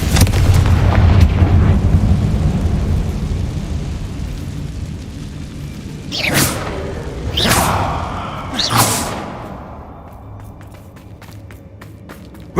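Confringo blasting spell explosions in Hogwarts Legacy: a loud sustained roar gives way to three sharp blasts in quick succession, each followed by a brief rumbling decay.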